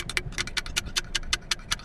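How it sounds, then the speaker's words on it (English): Deer antlers clicked together in the field to lure deer, about a dozen sharp, bright clacks in a quick, fairly even rhythm, close and alone. "I just clicked the antlers"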